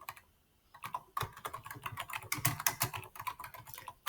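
Rapid keystrokes on a computer keyboard, clicking in quick irregular bursts after a brief pause, close and fairly clear with no voice over them.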